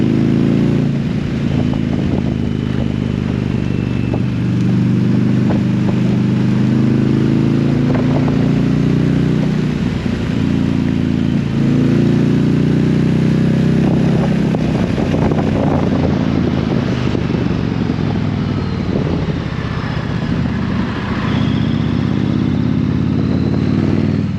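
A 2022 Indian Challenger Dark Horse motorcycle engine drones steadily throughout a ride, its pitch rising and falling with gear changes, with wind rushing across the microphone.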